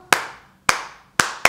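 Children clap along to the Bingo song, four sharp, distinct claps in a steady rhythm with short gaps between them, close and fairly loud with no voices.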